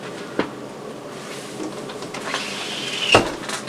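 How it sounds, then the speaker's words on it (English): A window shut indoors near a home mail-opening desk: a soft thud, then a longer sliding scrape that ends in a sharp latching clunk, over faint background noise. "Let me close the window real quick."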